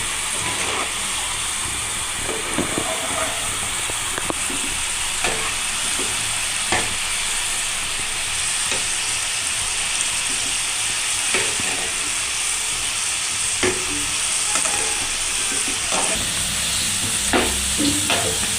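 Whole amla (Indian gooseberries) fry in oil in a pan for pickle, a steady loud sizzle and hiss with repeated scraping clicks of a spatula stirring them around, close up throughout.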